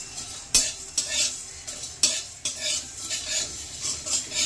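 Whole coriander, cumin, black cardamom, cinnamon and black peppercorns stirred in a pan over low to medium heat for chicken pulao, with a steady dry sizzle and repeated sharp scraping clinks of a utensil against the pan.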